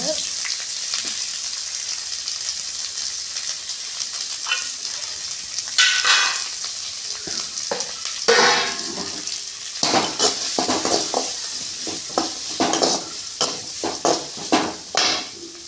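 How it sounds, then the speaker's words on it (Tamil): Onions and crushed garlic sizzle in hot oil with mustard seeds, a steady close frying hiss broken by sharp scrapes and clinks of a spatula stirring against the pan. "வெங்காயம் நல்லா வதங்கட்டுங்க"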